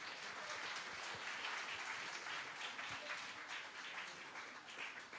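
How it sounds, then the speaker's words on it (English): Applause following a performance at a cultural event, a quiet, distant and continuous patter of many hands clapping from a crowd. "So once again, a big round of applause for Adnan."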